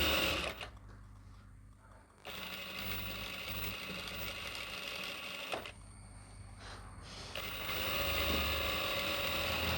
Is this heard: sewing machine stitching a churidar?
yes